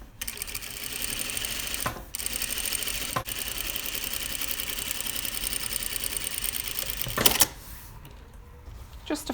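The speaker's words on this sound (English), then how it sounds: "I'm back at my machine with this seam that I've just pressed, and then we're just going to stitch along the edge to enclose it." A domestic sewing machine stitches along the edge of a pressed flat felled seam, running steadily for several seconds with short pauses. The motor buzz and needle rhythm are close and fairly loud, and nobody speaks.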